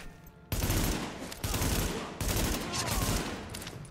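Loud, dense gunfire bursts from Tom Clancy's The Division beta, three sustained volleys of rapid shots with brief gaps between them, close and overwhelming.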